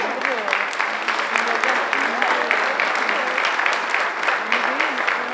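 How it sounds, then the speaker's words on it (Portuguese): An audience at the Baile da Rosa dance gives a round of applause for the ambassadors, loud, dense clapping sustained throughout, with some voices faintly audible underneath. "Uma salva de palmas para elas."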